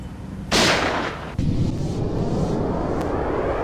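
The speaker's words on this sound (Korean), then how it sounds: "얘를 누르면 총알이 날아갑니다." A sniper rifle shot fires in the mobile game Sniper 3D Assassin as a single loud, sharp blast followed by a rolling boom and a lingering reverberant tail, with no talking over it.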